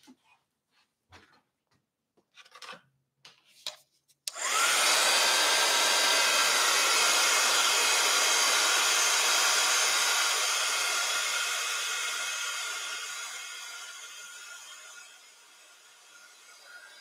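A hair dryer blows continuously and loudly over a wet painting in an art session, starting abruptly after a few faint taps and steadily easing down in level toward the end.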